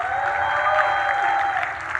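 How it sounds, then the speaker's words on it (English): Applause from a live audience at a business talk, a steady dense wash of clapping filling the whole stretch at moderate loudness, with faint crowd murmur underneath. "Give yourself a round of applause."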